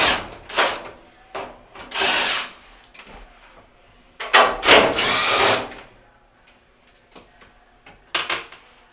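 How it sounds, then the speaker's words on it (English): Screws are backed out of a Whirlpool dryer's control console with a power driver, giving several short whirring bursts between quiet pauses and small clicks. "we're going to go up here and start removing some of the screws up here for our electronics"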